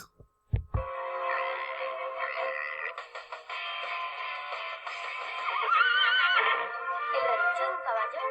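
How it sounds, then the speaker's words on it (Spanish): Horse neighing, a long whinny with quavering rising and falling pitch that lasts several seconds after a brief knock at the start, clear and fairly close. "El relincho de un caballo no lo voy a imitar."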